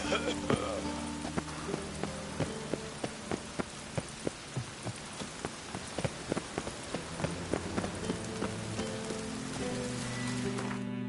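Rain patters steadily in The Witcher 3: Hearts of Stone, with irregular sharp drips and taps over a low background rumble.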